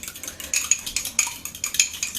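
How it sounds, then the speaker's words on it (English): A fork whisks egg in a mug for a microwave recipe, making quick, rhythmic clinking taps against the ceramic, about five strokes per second, close up and with no talk. "we're going to whisk it up with our fork."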